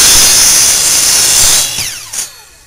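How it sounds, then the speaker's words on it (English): A loud, close power drill whirs steadily, then winds down and stops, with a brief final rev as it spins to a halt. "we're going to drill a hole right about there"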